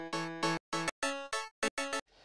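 Short synth notes from the Liquid Music VST triggered through internal MIDI inside Ableton Live, a choppy run of about eight clipped tones separated by silent gaps, fairly quiet, ending in a faint noisy tail.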